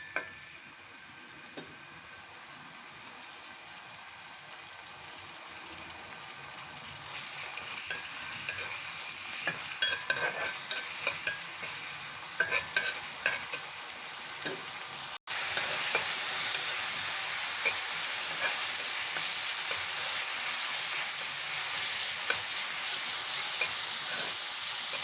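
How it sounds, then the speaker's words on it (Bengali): Onions fry in soybean oil for a Bangladeshi haleem, a quiet bubbling hiss rising into a louder, dense sizzle with intermittent stirring clatter and no talking. "পেঁয়াজটা আমি ভেজে নেব।"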